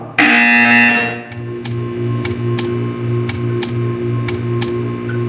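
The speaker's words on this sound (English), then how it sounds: "You will hear a buzzer." A loud, harsh buzzer in the video game Portal 2 blares for about a second, then a low hum continues with sharp ticks clicking at a steady pace.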